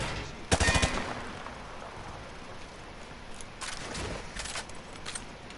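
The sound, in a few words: gunfire shooting targets in Modern Warfare 2 Remastered video game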